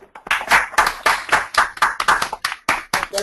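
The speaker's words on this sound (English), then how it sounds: "let's all extend Professor Miller a warm virtual applause here" Scattered hand claps from a small online seminar audience after microphones are unmuted, separate sharp claps in an uneven rhythm with brief gaps, close and fairly clear, no talking.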